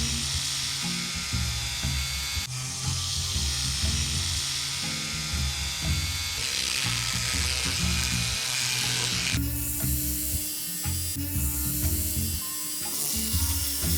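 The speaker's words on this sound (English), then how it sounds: "we sand down the areas of the jerry cans that will be glued to the platform using a power sander" A handheld electric power sander works over plastic jerry cans, giving a continuous high, buzzing whine that shifts in pitch and pressure as the pad is pressed and moved, loud and close with no talking.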